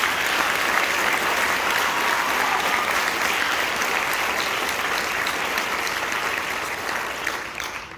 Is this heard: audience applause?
yes